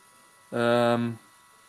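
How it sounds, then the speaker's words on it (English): An HP Sprocket photo printer makes a short buzzing whir of under a second against a quiet background. "you can hear that the printer is doing something"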